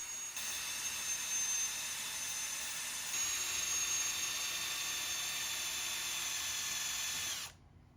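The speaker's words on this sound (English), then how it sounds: "as I shifted my weight onto the drill, I finally started making progress" A power drill whines steadily and loudly for several seconds, pitch shifting slightly midway as pressure increases, drilling into a part of a Cadillac Escalade during repair, then cuts off abruptly.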